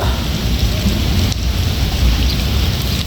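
Heavy rain mixed with hail pelts down during a storm in the UAE, a dense, loud, unbroken roar of drops striking surfaces with no let-up.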